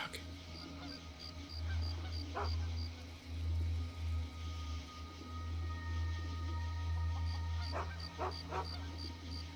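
A dog in a game barks and whimpers intermittently at mid distance over a steady low ambient drone, with a few sharp yips near the end.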